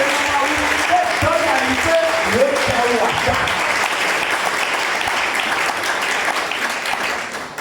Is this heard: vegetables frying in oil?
no